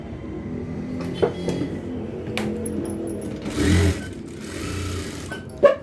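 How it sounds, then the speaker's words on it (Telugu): Sewing machine stitching a dress, an intermittent mechanical run with soft clunks and knocks of the machine and fabric handling nearby, ending in a sharp click, with no talking. "ఇప్పుడు పైనుంచి మొత్తం ఫుల్గా స్టిచ్ చేసేసుకుందామండి మనం"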